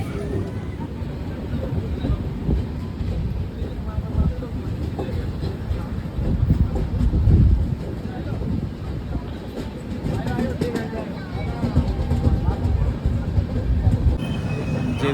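A Kamrup Express passenger train from NJP to Howrah rolls into a station, a loud, continuous rumble with rhythmic wheel clatter and some squealing from close aboard the train, with no talk.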